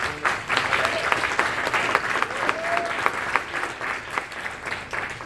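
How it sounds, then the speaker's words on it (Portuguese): A church congregation claps together in sustained, dense applause, with many hands close and loud, and voices mixed in underneath throughout. "Aplauda o Senhor."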